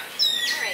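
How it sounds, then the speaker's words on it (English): Faint birds chirping in the distance in Tulum, Mexico, thin high tweets and short calls over a steady outdoor background hiss. "You can hear the birds singing."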